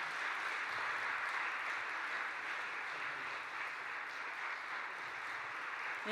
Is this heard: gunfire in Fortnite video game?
no